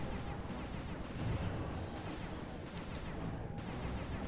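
Shooting during a boss fight in the video game Sly 2: Band of Thieves, with dense rapid booming shots and crashes over a constant noisy rumble and a few sharp bursts, no voices.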